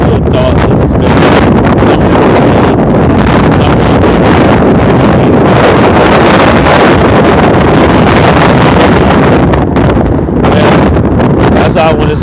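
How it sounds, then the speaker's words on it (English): Strong wind blows outdoors, buffeting loudly and continuously with gusty roaring surges that fill the whole stretch. "It's a little breezy out here"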